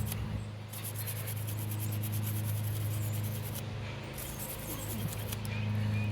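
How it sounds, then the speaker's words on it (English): A toothbrush scrubs hard water film off a part of a Navien tankless water heater in a steady, continuous rubbing stroke. A constant low mechanical hum runs underneath throughout. "I'm just going to take a toothbrush and clean this up, get rid of all this funk, hard water film on there."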